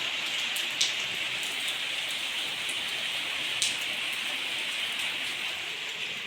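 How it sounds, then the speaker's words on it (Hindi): Rain falls steadily outside a house door, a constant close hiss of drops with a couple of brief louder splashes. "तो ये देखा कितनी अच्छी सी बारिश लग रही है"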